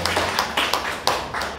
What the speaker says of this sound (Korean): 감사의 박수를 드립니다.